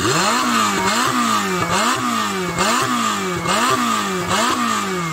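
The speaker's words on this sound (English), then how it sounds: "let's have a listen to the Ferrari with its turbochargers" Ferrari 488 Pista turbocharged engine revving loudly and close, with repeated rising and falling sweeps of throttle in a steady cycle, alone without talk.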